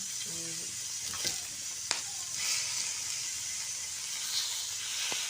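Onions and green chillies fry in hot oil, a steady, fairly loud hiss and sizzle with a few faint clicks of stirring over it.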